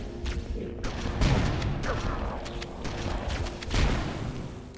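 Shotgun blasts from Halo, played on easy difficulty, boom out in a steady exchange of several sharp shots with echoing tails over a busy combat background.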